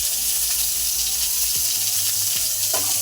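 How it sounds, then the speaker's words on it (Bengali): Chicken frying in a pan gives a constant close sizzle with a faint watery hiss, and a few soft scrapes of stirring come through in the short stretch. "আর এখানে দেখতেই পাচ্ছেন আমাদের চিকেনটা প্রায় অলমোস্ট ভাজা হয়ে এসেছে"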